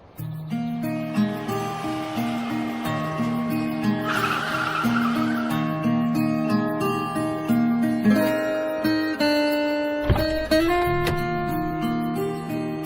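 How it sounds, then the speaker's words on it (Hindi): A car pulls away and drives off, its engine and tyres whooshing and squealing under a loud, steady music bed. The vehicle noise swells and fades across the passage. "फिर आहान उस गाड़ी में बैठा और ड्राइव करते हुए निकल गया।"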